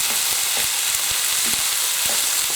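Cottage pie filling fries in a pan with a steady bright sizzle, and soft stirring knocks come through at an even pace.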